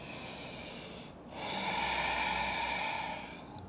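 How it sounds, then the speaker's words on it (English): Breathing in and out during a yoga stretching session: a soft breath, a brief pause, then a long, loud, airy breath close to the mic, heard alone with no voices. "Breathing in and out."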